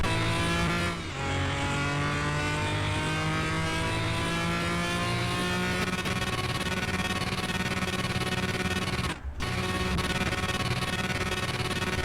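A 1997 McLaren F1 GTR Longtail in Car Mechanic Simulator, its engine roaring at sustained high revs with rising pitch through gears, loud and continuous with two brief shift dips, no talk.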